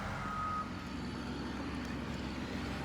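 A truck on a construction site where cut-and-fill earthwork is underway, with a steady engine rumble and a brief high reversing-style beep near the start, no voices.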